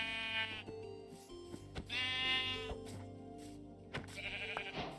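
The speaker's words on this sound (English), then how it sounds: "There's a sheep." Sheep in Minecraft Bedrock Edition bleat several times in a row: drawn-out, wavering game bleats that sound close and clear, with no talking over them.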